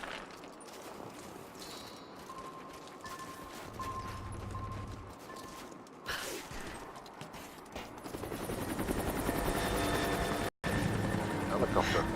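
Helicopter in the video game Rise of the Tomb Raider, a steady rotor drone that grows louder as it arrives, mixed with other game sounds, a brief dropout and a voice talking over it.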